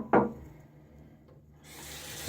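A tap runs into a sink during a wet shave, starting as a steady close hiss of flowing water after a brief knock and a quiet lull.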